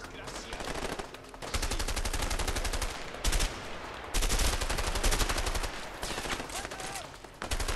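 Rapid bursts of gunfire from a burst-fire gun in the video game A Way Out, loud and close, with repeated shots in several clusters and brief pauses between them.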